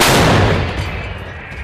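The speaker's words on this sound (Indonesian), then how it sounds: "tampak memakai howitzer untuk menembaki pos-pos Rusia" Howitzer artillery fired by a unit in eastern Ukraine, one loud close blast that decays into a rumbling echo over under two seconds.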